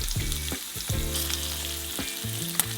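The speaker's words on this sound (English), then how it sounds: "I added in my peppers, sauteed those for a while till they got a little soft" Bell peppers saute in a hot pan with a continuous close sizzle and a few low clunks from the pan.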